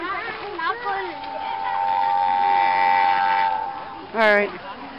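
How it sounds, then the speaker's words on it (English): A long, steady, train-like horn tone sustains for several seconds at a zoo, with people talking and shouting around it before and after. "Sound like a train."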